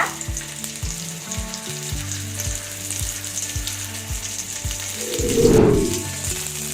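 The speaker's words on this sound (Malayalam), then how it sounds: "പനീർ നമ്മൾ ജസ്റ്റ് ഒന്ന് ഷാഡോ ഫ്രൈ ചെയ്താൽ മതി" Paneer shallow frying in a pan for paneer butter masala, a steady sizzle with a regular ticking beat throughout, swelling into a louder burst of spitting oil near the end.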